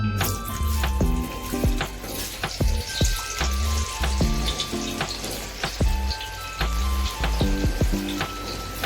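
Thick-cut banana chips deep-frying in oil, a loud steady bubbling sizzle with scattered clicks and knocks of a utensil against the vessel throughout.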